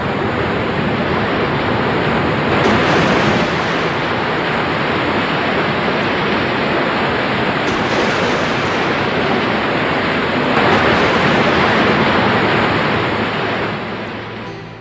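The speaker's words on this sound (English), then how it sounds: "Flash flooding will take some animals by surprise as the stream swells and roars down the mountain in a torrent of foam." A flash-flooded mountain stream roars down in a foaming torrent, a loud, steady broadband rush of water that holds throughout with slight surges and fades at the end.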